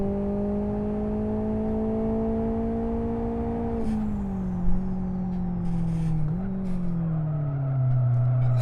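A rear-wheel-drive race car in the Live For Speed sim racing game drones loudly at steady engine pitch, then the revs drop and waver as tires squeal briefly through corners before the engine climbs again.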